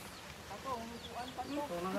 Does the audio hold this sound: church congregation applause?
no